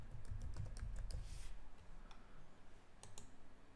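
Typing on a computer keyboard while filling in a registration form, a quick cluster of close clicking keystrokes, then a pause and a few scattered taps over faint background hum.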